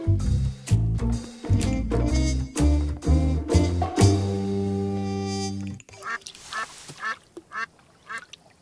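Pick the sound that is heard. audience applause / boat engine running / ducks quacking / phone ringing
ducks quacking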